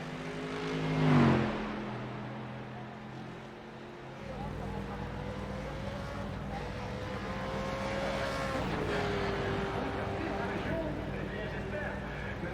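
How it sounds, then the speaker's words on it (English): A pace car drives along the pit lane during a six-hour racing event, its engine note rising and falling at a moderate distance behind a constant lower hum, with a voice talking over it. "Why do I hear a car in pit lane?"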